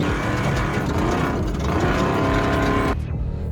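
Off-road pre-runner truck, a street-legal daily driver, roaring across desert terrain with a loud, sustained engine note and rumble, then a sudden drop as the engine cuts back near the end.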